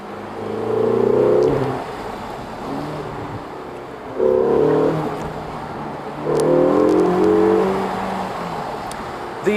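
A Ferrari California T engine revs while driving, with three loud surges of throaty acceleration between quieter cruising stretches, heard from inside the car.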